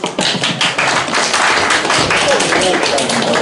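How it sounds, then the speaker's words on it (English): An audience at a debate event claps, a loud close burst of many hands that runs steadily and fairly densely through the whole moment. "A round of applause so far for everyone involved."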